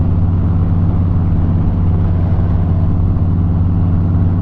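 A motorcycle engine running steadily nearby, a low, even rumble holding constant throughout with no voices.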